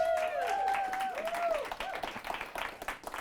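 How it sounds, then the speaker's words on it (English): Round of applause from a studio audience, fairly dense clapping that thins out toward the end, with a voice briefly sounding over it at the start. "Round of applause"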